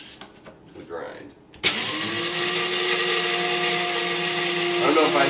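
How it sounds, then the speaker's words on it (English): An electric grinder grinds coffee beans for a morning brew, switching on abruptly after a few seconds of quiet talk and running as a loud, steady, high-pitched whir until the end. "I grind my beans every morning."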